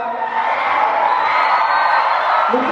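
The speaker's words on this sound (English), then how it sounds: "A round of applause, everyone." An audience at a national convention cheers and whoops loudly, a sustained wash of crowd noise with voices rising through it.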